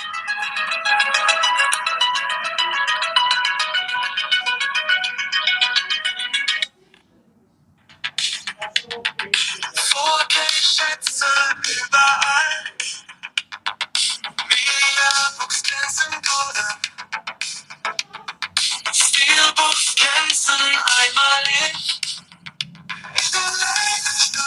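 A song played through a mobile phone's small speaker, bright and thin, running almost continuously with a short break near the start and a brief dip toward the end.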